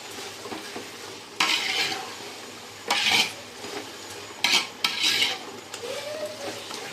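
Spoon scraping and stirring soya biryani in a pan in several bursts, with a soft sizzle underneath and a few metallic clinks.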